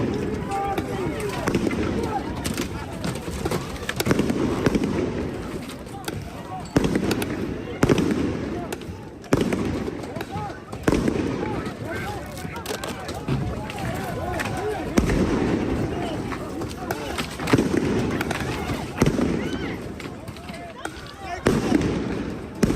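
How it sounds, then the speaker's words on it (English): Police flashbangs and stun grenades go off as repeated loud blasts and bangs at irregular intervals over a noisy crowd of protesters at a campus encampment, with shouting and running in the background. "What you are hearing there are flashbangs or stun grenades that the police are deploying,"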